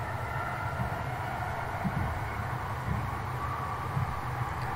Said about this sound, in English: Seems we're in the train too or something.